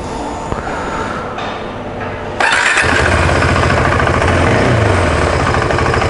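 A new KTM Adventure 390 motorcycle's single-cylinder engine idles up close, with a steady low rumble that jumps noticeably louder partway through and then keeps running evenly.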